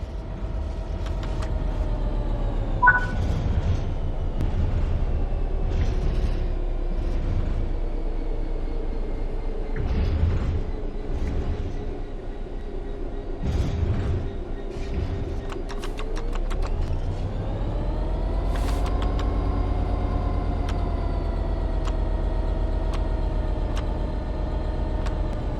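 A train coasting on level ground in Train Sim World 3: a steady low engine and rail rumble with sustained tonal hum, a shift in pitch partway through, and scattered clunks and rattles, close and continuous without talk.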